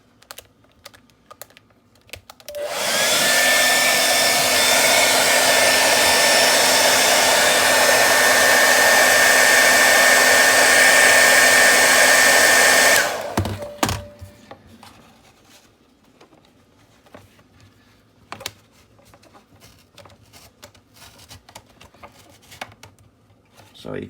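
A handheld hair dryer blows hot air onto the plastic window of a Funko Pop box: a loud, steady roar for about ten seconds, then it cuts off, leaving faint handling clicks and taps.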